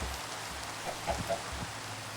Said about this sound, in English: as you can see here, it again was raining